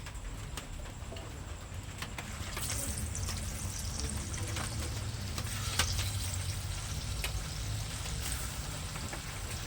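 Palm fruit rasraj pitha frying in hot oil, a steady broadband sizzle with bubbling that swells slightly partway through, alone without voices.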